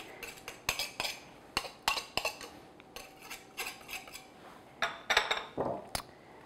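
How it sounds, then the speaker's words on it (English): Quick, irregular metallic clinks and scrapes of a pastry blender working against a bowl of coarse crumbs for blueberry cake, close by and fairly quiet. "scrape your pastry blender."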